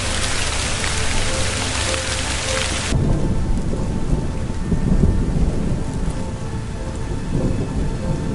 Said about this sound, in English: this town was suddenly engulfed in such a violent hailstorm that it looked as if it had just entered a harsh winter